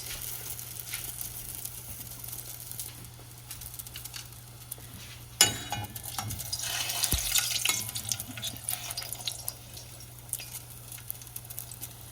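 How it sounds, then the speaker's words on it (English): Fry bread dough drops into hot oil and a bright sizzle swells up, crackling steadily for several seconds before settling into a quieter fizz. "You can see it sizzles when you put it in."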